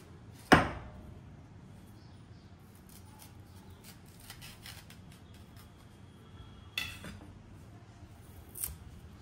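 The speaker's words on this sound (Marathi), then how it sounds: "अशा चिरा पाडून घ्यायच्यात आधी, म्हणजे केळ सोलायला सोपं जातं" A knife scores slits into a raw banana's peel: a few sharp, quiet cutting clicks spaced several seconds apart, close by, with no talk.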